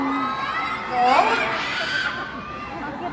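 Filipino fans at a fan photo session in Manila cheer and shout as a crowd. The noise swells near the middle, then eases, with a voice speaking over the hubbub.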